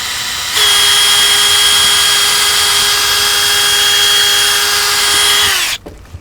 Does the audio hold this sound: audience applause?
no